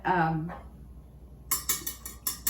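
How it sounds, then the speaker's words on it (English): An almond mixture is whisked briskly in a bowl, giving a run of quick metallic clinks and scrapes in the second half after a brief voice at the start. "we're gonna whisk this up"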